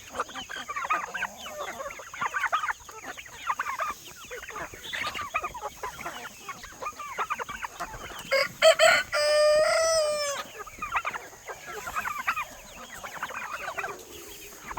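A rooster crows loudly partway through while chickens cluck around it, with people talking throughout in a lively outdoor setting.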